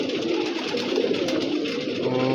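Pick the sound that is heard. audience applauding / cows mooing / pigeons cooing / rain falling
pigeons cooing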